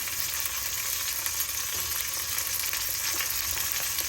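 Cumin and fenugreek seeds frying in hot oil with green chillies for an amla pickle tempering, a steady close sizzle with faint stirring, no voices.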